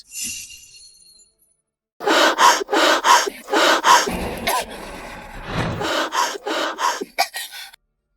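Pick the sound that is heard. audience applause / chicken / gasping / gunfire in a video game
gasping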